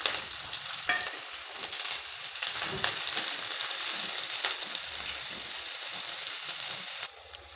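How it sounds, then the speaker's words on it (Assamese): Onion and green chilli frying in hot mustard oil in a pan, a steady loud sizzle with soft stirring scrapes running throughout before easing slightly at the end. "এতিয়া মই পিঁয়াজ আৰু জলকীয়া দিলোঁ।"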